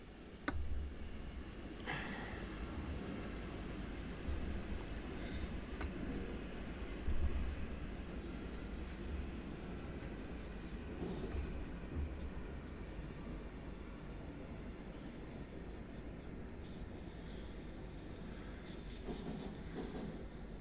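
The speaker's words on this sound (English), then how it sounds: "Begin applying a small amount of braking force using the driver's brake valve to bring the train to a gentle stop." A train in the Train Sim World 6 simulator rolls along and is gently braked, a steady low rumble of the running gear with faint clicks and ticks over about twenty seconds, no talk.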